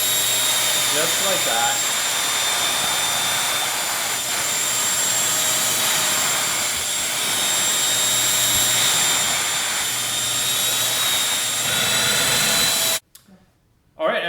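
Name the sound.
Bissell Featherweight stick vacuum cleaning hair off a sofa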